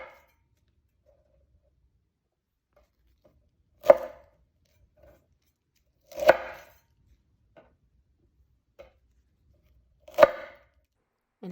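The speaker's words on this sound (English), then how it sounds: "I slowed down the addition of the Suya spice because the sound is just so" Suya spice being added to Brussels sprouts: three crisp, percussive bursts spaced a couple of seconds apart, with faint ticks between them, close and clear with no talking.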